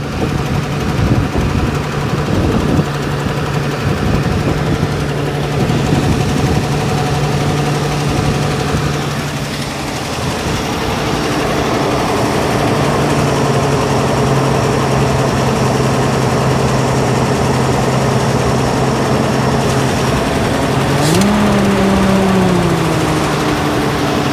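A 1969 Ford Bronco engine idling after a throttle linkage adjustment, a loud, steady rumbling idle with a rough, knocking pulse, running continuously close by with a brief rise in pitch near the end.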